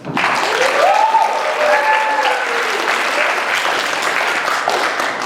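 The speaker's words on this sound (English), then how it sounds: "let's just one more round of applause, yes." Audience at a church vacation Bible school presentation applauding, a loud, steady wave of clapping that fills the whole stretch with a few cheers mixed in.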